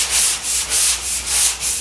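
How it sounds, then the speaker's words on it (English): Hand block-sanding a Porsche 356 body with self-adhesive sandpaper over guide coat, a close, loud, rhythmic back-and-forth rasp of about six strokes with no voices. "So I'm going to start sanding on it"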